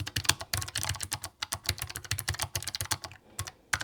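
Rapid, steady typing on a low-profile keyboard, keys pressed hard, producing a dense run of crisp clicks up close with brief pauses and no voices.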